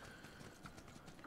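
Horse hooves in the video game Tiger Knight: Empire War, a quick run of faint clip-clop footfalls in an even rhythm, brief and alone.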